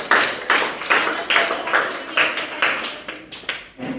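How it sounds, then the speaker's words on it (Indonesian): Classroom of students applauding each group, about ten quick bursts of clapping in a steady, rhythmic pattern, fairly close and bright, fading out at the end. "beri tepuk tangan untuk masing-masing kelompok"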